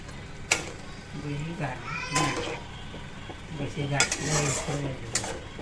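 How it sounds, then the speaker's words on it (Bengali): Taro stolons coated in turmeric, salt, raw oil and chilli powder are stirred in a pan, with clinks and scrapes of a utensil against metal over a soft sizzle while someone talks throughout. "এটা এখন দিয়ে দেবো। এটা দিয়ে এখন কষাবো।"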